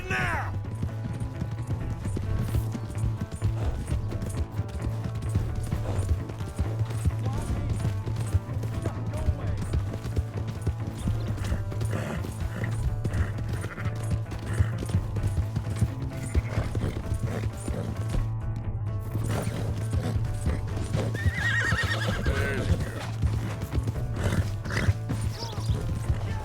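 A horse's hooves clip-clop in a steady galloping rhythm with occasional neighs during Red Dead Redemption 2 gameplay, underneath a game soundtrack and some voices.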